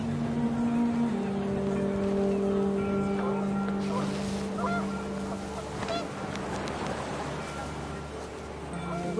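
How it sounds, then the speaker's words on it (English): Panicked geese honk in a noisy flurry outdoors on a windy day, the calls overlapping against a steady low drone in the background. "panicked geese appeared and quickly went"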